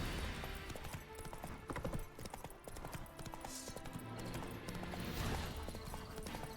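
Horse hooves clip-clopping at a steady trot in the video game Witcher 3, a continuous rhythmic patter over ambient game sounds, with no one talking.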